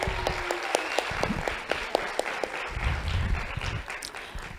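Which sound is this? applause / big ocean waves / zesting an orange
applause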